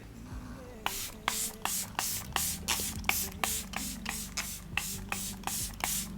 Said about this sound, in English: Let me spray it first. Okay. That's a really pretty mist.